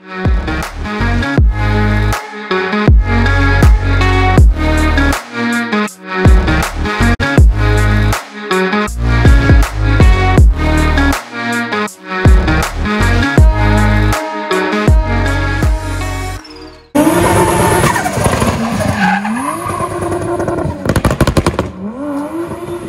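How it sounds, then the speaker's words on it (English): A freshly painted Nissan S13 with a 1JZ engine does a burnout, loud revving bursts in rapid on-off pulses, then a sustained screaming roll of engine and spinning tyres, close and with no talk. "this is the first burnout I've seen it do"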